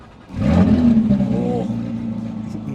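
A Porsche 911 GT3 with its engine revved once up to a loud, sustained high-pitched howl that holds steady and then eases off, heard up close.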